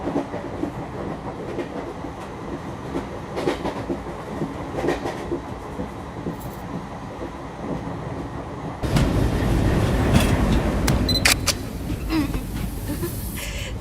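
A train rolls into a station with a steady rumble and clickety-clack of wheels over rail joints, growing louder and denser partway through as carriages pass close, with scattered clanks and squeals.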